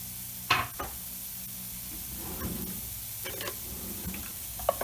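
Garlic and onion sizzle quietly in a soup pot, with a few scraping stirs breaking through the steady low crackle and no voices.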